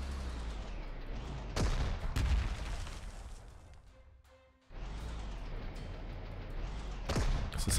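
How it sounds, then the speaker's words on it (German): Artillery barrage in the strategy game Panzer Corps 2, with repeated heavy booms and crashing blasts over a dense rumbling battle bed, briefly dropping away before the bombardment resumes. "Das ist alles Artillerie."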